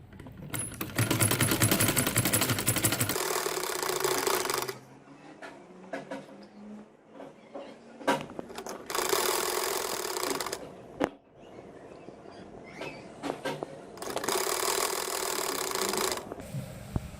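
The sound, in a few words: sewing machine stitching waistband of kids' shorts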